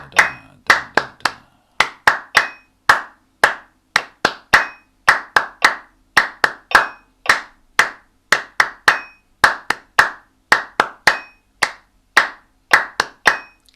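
Sharp, close hand claps land in a steady repeating rhythm of short groups with brief pauses between them, as part of a music warm-up session in C major.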